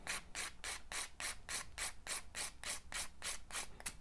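Close, steady rasping of a file shaping a gel nail into a ballerina form, in quick regular back-and-forth strokes about four per second, soft and continuous with no talk.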